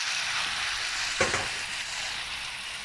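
Potatoes dropped into well-heated oil for a quick home recipe with meatballs give a steady, close frying hiss throughout, with one brief louder splash-like burst partway through, no talk.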